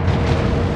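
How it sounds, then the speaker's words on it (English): A destroyer blows up in the naval warfare game World of Warships, a dense, loud rumbling boom filling the short moment without a break. "Destroyer blown up."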